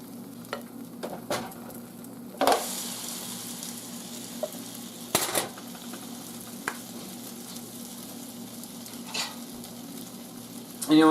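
Pancake and waffle batter sizzling steadily on a hot griddle and waffle iron, a continuous close frying hiss with a few sharp clicks and clatters of utensils, no talking.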